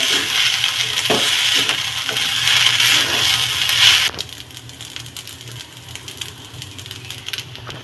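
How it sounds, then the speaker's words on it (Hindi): Vegetable fried rice is stir-fried street style over a high gas flame, giving a loud, steady sizzle with stirring scrapes for about four seconds before dropping to a quieter crackle. "ऐसे चला चला के इसको फ्राई करेंगे।"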